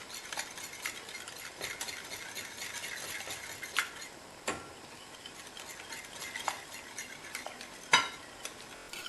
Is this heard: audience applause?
no